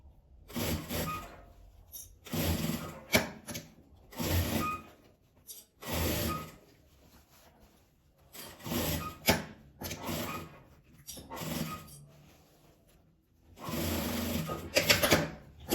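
A sewing machine runs in repeated bursts of stitching, stopping and starting, as it sews down a detail on a patchwork piece made from fabric scraps; the motor is fairly close and steady during each run, with quiet pauses between.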